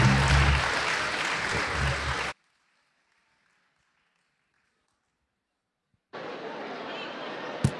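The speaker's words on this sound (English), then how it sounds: "Give them a round of applause." An auditorium audience at a spring orientation applauds the panelists; loud crowd clapping cuts off into silence, then resumes at a lower level for the last couple of seconds.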